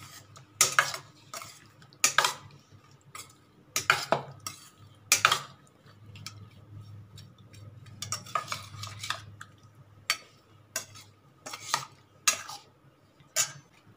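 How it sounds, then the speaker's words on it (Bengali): A ladle mixes pabda fish curry with tomato in a pot, giving repeated sharp metallic scrapes and clinks in uneven bursts over a low background hum, close and without speech. "আমি এটা হাতা দিয়ে ভালো করে মেশাচ্ছি"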